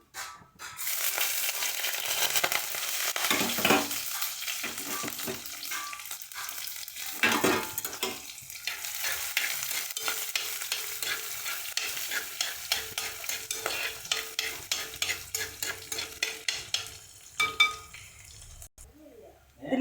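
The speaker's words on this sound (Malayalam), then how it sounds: "ഉള്ളി നന്നായി വഴന്ന് വന്നിട്ടുണ്ട്." Shallots and curry leaves fry with mustard seeds in hot oil, crackling and sizzling while a utensil stirs and scrapes the pan in repeated strokes, louder and more rhythmic near the end.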